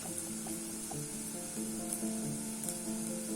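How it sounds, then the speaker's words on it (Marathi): Onion frying in a pan until reddish, a steady close sizzle with soft crackle running evenly throughout, music playing underneath. "अजून थोडा वेळ भाजू दे कांदा, लालसर येऊपर्यंत"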